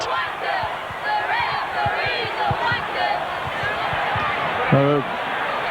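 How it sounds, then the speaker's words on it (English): A rugby league crowd at a 1995 Leeds versus Wigan match jeers the referee in a sustained roar with scattered shouts and a louder yell near the end, while a voice talks over it. "the referee coming under some criticism from the crowd at the moment"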